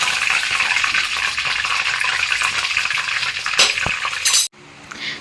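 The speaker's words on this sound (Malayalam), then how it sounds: "എണ്ണയൊന്നും അധികം കുടിക്കാണ്ട് നമുക്ക് പൊരിച്ചെടുക്കാം" Prawn vada sizzling as it fries in hot oil, a steady loud crackle and bubbling with faint utensil clinks, cutting off abruptly near the end.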